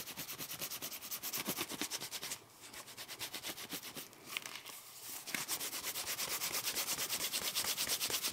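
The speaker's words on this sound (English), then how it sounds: "rub that in with our polishing cloth or wood slicker" A polishing cloth or wood slicker works along the edge of a leather bifold wallet: rapid, rhythmic back-and-forth rubbing strokes, close and steady, with two brief pauses, no talk.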